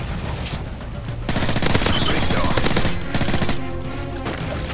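Gunfire in the video game Call of Duty Modern Warfare 3: dense rapid automatic fire in sustained bursts, loud and close, layered over game effects and background noise.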